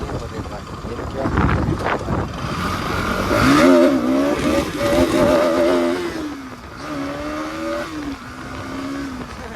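A Bajaj Dominar motorcycle revs hard through a wheelie attempt, its engine note rising and falling in loud, close surges while excited voices talk over it.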